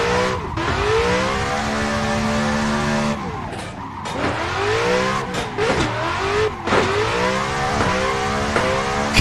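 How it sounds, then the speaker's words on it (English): An LS V8 car engine in a racing simulator roars loud and close, revving up and down through repeated gear changes with sweeping pitch rises and brief tire squeal, with no voices. "That sounds absolutely brutal. I'm pretty sure that's like an LSV8."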